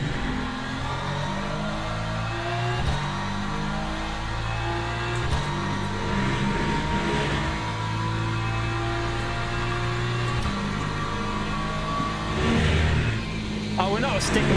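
Lexus race car in the Le Mans Ultimate racing game, its engine note climbing and dropping through gear changes at steady volume, with someone talking over it throughout.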